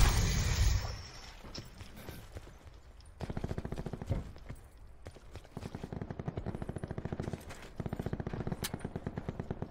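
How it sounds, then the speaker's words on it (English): Video game shootout with repeated bursts of rapid gunfire, loud and close, in rattling clusters separated by short pauses. "dude shooting right at you from up there"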